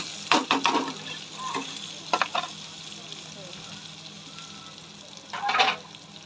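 Curry leaves and a medium onion hit hot oil for a brinjal bharit tempering, giving a quiet steady frying hiss broken by a few short sharp crackling bursts and stirring scrapes.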